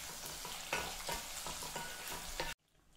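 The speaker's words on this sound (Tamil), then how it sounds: "எல்லாத்தையும் இப்போ ஒரு கெண்டி கெண்டிக்கிறோம்." Green chilies and sliced onion fry and get stirred in a pan, a steady sizzle with repeated scraping strokes for about two and a half seconds before cutting off abruptly.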